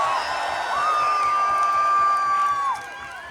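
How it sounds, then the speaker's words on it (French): A crowd cheers wildly as a sound cue for the opening of a Bicolline 2025 grand battle bloodsport show, a dense steady roar with a shrill whistle or whoop riding above it, fading slightly near the end. "Foule en délire, je l'avais mis dans les cues"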